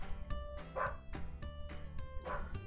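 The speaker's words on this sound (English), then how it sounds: "The dog is attacking again." A husky barks and yips in the Pet Clinic video game, about six sharp barks at a steady, insistent pace with a whiny edge, close and clear with no talk over them.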